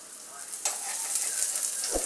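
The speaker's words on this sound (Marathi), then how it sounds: "थोडंसं भाजून घेऊया आपण त्याला" A Maharashtrian dhapate flatbread roasts with a little oil on a hot pan over medium-high gas, giving a continuous bright sizzle with a sharper burst partway through and a soft thump near the end.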